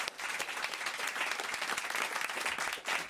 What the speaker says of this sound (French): On reprend sur des applaudissements.